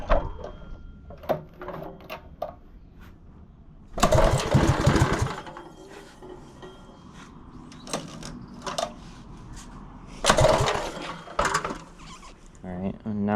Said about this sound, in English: We're going to see if we can give it wide open throttle without killing the engine.